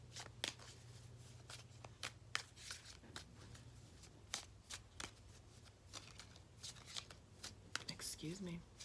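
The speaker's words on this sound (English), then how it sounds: "Being told to shuffle my cards." A deck of cards is shuffled repeatedly up close, giving a run of quick riffling bursts and snaps in an irregular rhythm, with a short voice near the end.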